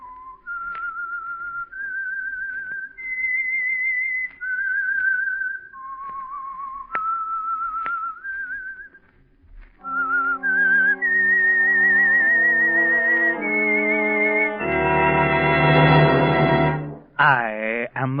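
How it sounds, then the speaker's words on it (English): A lone whistler carries the theme tune of The Whistler radio show, clear sustained notes stepping up and down, followed by an orchestral swell that ends in a sweeping flourish. "That whistle is your signal for the Signal Oil Program"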